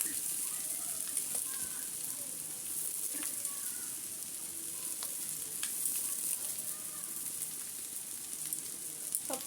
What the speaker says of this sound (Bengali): তো এবার এর মধ্যে আমি চাউমিনগুলো দিয়ে দেবো।